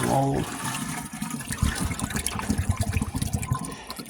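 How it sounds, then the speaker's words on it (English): Rainwater and snow melt pour out onto a compost pile with an uneven, splashing gurgle, close by and fairly loud, ending in a run of rhythmic sloshes. "some rainwater and snow melt. Give it a little bit more."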